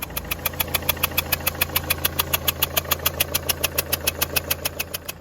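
An MK4 Ford Mondeo diesel engine idles with a rapid, even chuffing pulse from a leaking injector seal, a steady loud rhythmic puffing over the engine's low hum, close to the microphone with no talking.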